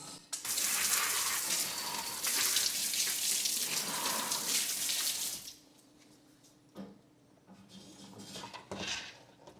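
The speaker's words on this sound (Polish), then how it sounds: "Lekko spryskam je wodą." Water hisses in a steady spray onto carpet-cleaning tools at a rug-washing facility, loud for about five seconds, then gives way to a few short bursts and clatters.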